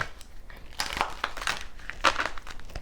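Tarot cards are riffled and shuffled in a few quick, crisp bursts of papery flutter, close by and fairly soft, with no talking.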